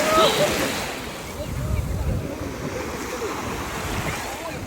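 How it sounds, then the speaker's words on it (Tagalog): Ocean waves washing ashore at Al Heera Beach in Sharjah under steady wind noise, a soft, continuous surf at moderate distance, with a faint voice at the start. "Ang ganda ng dagat guys."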